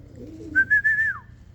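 A roller pigeon gives a single soft, drawn-out whistling coo that lasts under a second, close and clear over a low background rumble.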